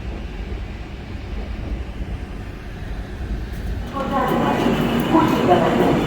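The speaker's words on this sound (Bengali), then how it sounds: "এই রামপুরহাট স্টেশন আমরা ক্রস করছি এখন। মোটামুটি ট্রেন রাইট টাইমেই আছে" The Saraighat Express passenger train runs between Kolkata and Guwahati, with a steady rumble of wheels on the rails that grows louder and fuller halfway through, and voices faintly under it.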